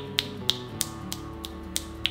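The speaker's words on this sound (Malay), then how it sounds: "saya petik jari sini" Seven crisp finger snaps at an uneven, roughly half-second pace, close and sharp, with no talking.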